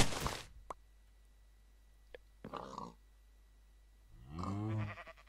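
Minecraft sheep bleats once, close and clear, after a few short clicks and soft game noises in an otherwise quiet stretch.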